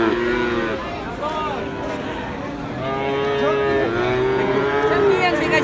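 Cattle at a livestock market stand moo repeatedly, with long, loud drawn-out calls over a busy crowd murmur and background talk.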